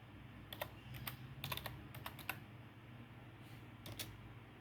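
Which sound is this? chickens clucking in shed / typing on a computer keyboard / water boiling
typing on a computer keyboard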